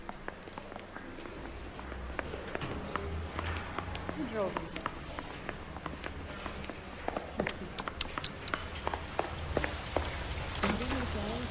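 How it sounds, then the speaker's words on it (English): Steady rain patters across a surface in the video game L.A. Noire while footsteps and taps move around, with voices talking over the whole stretch. "Oh god, it's raining."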